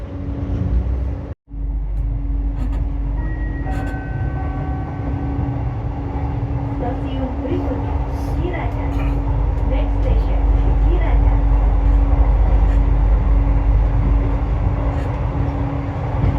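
An LRT Jabodebek light rail train on the Cibubur Line runs with a steady, loud rolling rumble and hum from inside the car, broken by one brief cut near the start, with voices talking over the ride.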